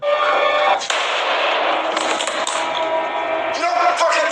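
A gunshot in a film scene, fired by a character in New York, heard as a sharp bang amid a busy, loud movie soundtrack with other impacts and noise.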